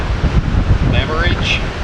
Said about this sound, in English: Good wind, 22-ish.